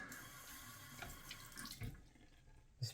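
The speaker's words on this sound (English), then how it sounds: "Oops, dripping all over the place here." Tap water runs into a sink while a straight razor is rinsed, a faint steady splash with a few soft knocks and a brief clatter toward the end.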